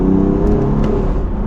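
A BMW M4 with IPE downpipes and its exhaust valves held open roars close by, a loud, deep, sustained engine drone with a steady throaty rumble and no speech.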